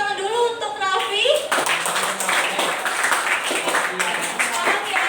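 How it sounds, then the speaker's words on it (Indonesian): A classroom full of students claps in brisk scattered applause that starts abruptly after a teacher's spoken request and carries on fairly loud for several seconds. "Tepuk tangan dulu untuk Raffi."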